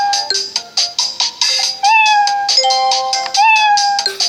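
A cat meows repeatedly, about a dozen short rising and falling cries in quick succession, close and loud, some drawn out with a wavering pitch.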